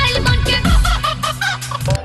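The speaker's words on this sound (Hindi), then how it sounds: "ये मुर्गा मोबाइल बाटे" Synthetic, tonal rooster clucking plays from a mobile phone ringtone, a loud close run of rhythmic electronic cackles with layered buzzy harmonics lasting about two seconds.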